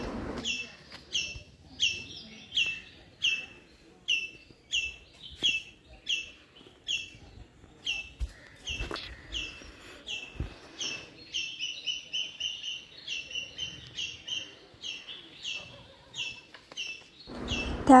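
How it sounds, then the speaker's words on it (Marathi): Birds chirp in quick, bright repeated bursts at a forest resort with a bamboo tree house, the calls near and rhythmic over a quiet background with occasional knocks. "किती छान असं पक्ष्यांचा आवाज ऐकू शकता तुम्ही"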